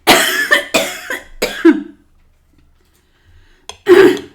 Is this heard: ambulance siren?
no